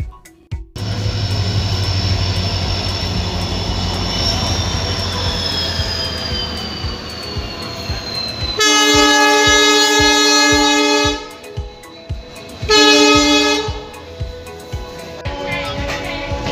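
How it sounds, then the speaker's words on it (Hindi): Rajya Rani Express pulling out of a station on the Meerut–Lucknow run, heard from a window seat inside the coach: a steady loud rumble with a rising whine, then a long multi-tone horn blast, a pause, and a second horn. "और अब उजाले के साथ फाइनली हमारी ट्रेन यहाँ से डिपार्ट कर रही है।"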